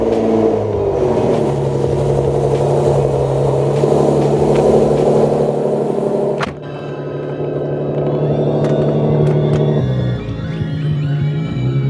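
A Nissan 370Z Nismo fitted with high-flow cats starts up on a cold 20-degree morning, its engine roaring loud and close in sustained revs, dropping briefly before settling into a steady, rumbling idle and lighter blips.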